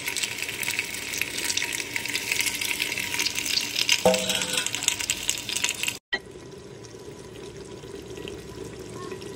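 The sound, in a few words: meat and water cooking in a handi pot on the stove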